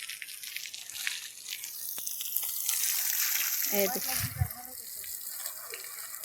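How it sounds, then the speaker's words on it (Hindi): Water pours steadily onto leafy vegetable plants in a home garden, a soft continuous rushing splash, with voices speaking briefly in the background. "दीदी अभी पानी पलोथे"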